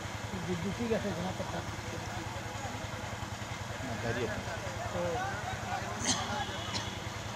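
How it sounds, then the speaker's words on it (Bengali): A generator runs steadily nearby as a low, even mechanical drone with a faint rhythmic pulse, continuing under a man's speech and a few distant higher sounds. "জেনারেটর"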